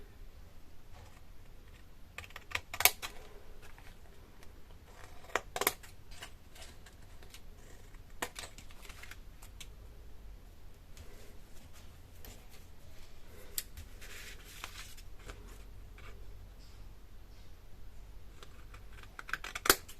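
Scissors cutting paper around the edge of a greeting card frame, soft irregular snips and crisp ticks close by, with small louder clicks now and then and no talking.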